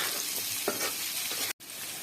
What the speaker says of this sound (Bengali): কোয়েল পাখির ডিম দিয়ে ভালোভাবে আলুর সাথে আরও ভাজিয়ে নেব।